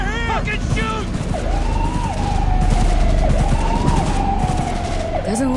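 Rapid gunfire in the video game Cyberpunk 2077 crackles in dense bursts beneath a wailing police siren, with shouting voices and game music mixed in.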